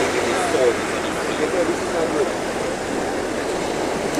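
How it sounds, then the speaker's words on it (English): A steady, heavy roar of huge crashing ocean surf off St Lucia fills the scene, continuous and loud, with a few faint voices mixed in. "Those waves are now monstrous."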